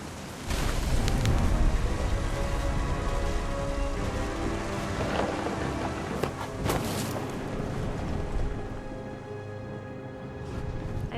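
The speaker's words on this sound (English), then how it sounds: "The thunder sounded much too close and full of angry power." Heavy rain pours steadily in a What Remains of Edith Finch thunderstorm, with several sharp, close thunder cracks and rumbles bursting through the downpour and no talk.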